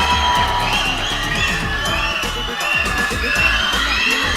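A large audience at a Tamil film event, with Vijay onstage introducing Sivakarthikeyan, claps and cheers loudly, with steady applause and scattered whoops and shouts running throughout.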